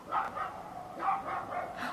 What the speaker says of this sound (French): Il y a un chien dehors, si vous entendez aboyer,